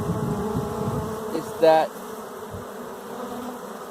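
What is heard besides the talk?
honey bees swarming back into a box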